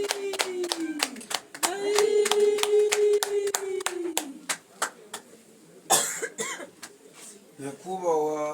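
Brief bursts of hand clapping from a small gathering at a wedding ceremony, mixed with a sustained vocal tone, coughing and voices talking over it.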